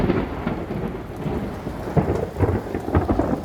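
A thunderstorm with a low rolling rumble of thunder over heavy falling rain, swelling and surging through the few seconds, loud and fairly close, with no voices.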